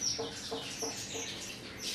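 An Egyptian goose and other injured birds at a swan sanctuary give a steady run of short clucking calls, about four per second, over a busy background hiss.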